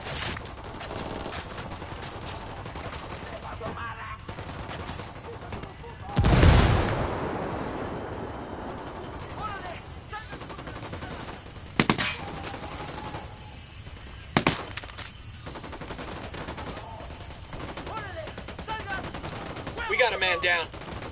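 Gunfire erupts in the tactical shooter Ghost Recon Wildlands during a fight near an HQ building: a loud, sharp burst stands out, followed later by a few isolated shots over a steady game background.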